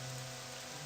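Steady rain falls in the open world of the video game Morrowind (The Elder Scrolls III), a constant broadband hiss with a low droning hum beneath it, even and unbroken throughout the short moment.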